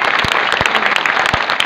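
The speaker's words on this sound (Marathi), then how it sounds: "सर्व मर्द मराठ्याच्या नावाने एकदा जोरदार टाळ्या वाजाव्या" A crowd at a Maratha public gathering claps together in a short burst of dense, loud applause with a few sharper individual claps standing out.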